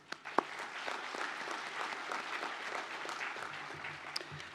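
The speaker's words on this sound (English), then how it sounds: "Let's give them a well-deserved round of applause." A commencement audience at a university graduation ceremony applauds, dense steady clapping from a large crowd heard at some distance, continuous for the whole stretch with a few louder claps near the start.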